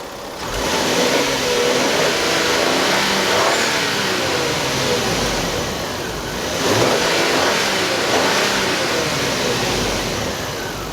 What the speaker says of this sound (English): you'll be able to hear nice turbo, especially when you're on the road